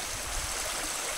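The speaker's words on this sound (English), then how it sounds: "We've got obviously the river's main path here." The east fork of the San Gabriel River flows in a steady, broad rush of running water, close and continuous with no break or change across the short stretch.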